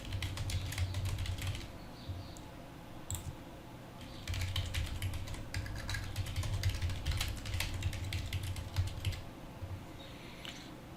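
Computer keyboard typing during accounting data entry: rapid bursts of clicking keystrokes, close and clear, broken by a couple of short pauses.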